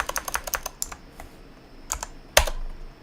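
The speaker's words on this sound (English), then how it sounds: "Or I'm typing something wrong. Yeah, of course I'm typing it wrong." Someone types on a computer keyboard during a masternode setup, a quick run of close clicking keystrokes, then a pause and a few isolated harder presses, with no speech.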